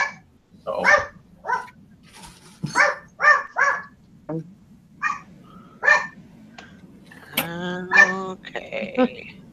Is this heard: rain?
no